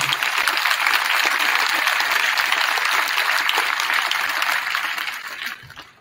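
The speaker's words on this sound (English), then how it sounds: "we can give them a round of applause too" An audience at a middle school winter band concert applauds warmly, a dense, sustained wash of clapping that carries for several seconds before fading out near the end.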